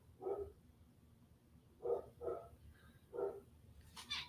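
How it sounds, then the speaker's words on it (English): A dog barks several times at a distance, single muffled woofs spaced irregularly, faint against a low background hum. "Who's the dog barking?"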